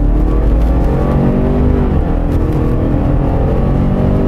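A Subaru Forester XT turbo with a 280 hp engine pulls hard at full throttle, a loud, dense, steady engine roar heard from inside the car, with no talk.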